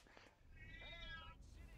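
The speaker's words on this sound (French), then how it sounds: "Ah, vous entendez le chat." A cat in the video game Cyberpunk 2077 meows once, drawn out and fairly clear, with faint background noise around it.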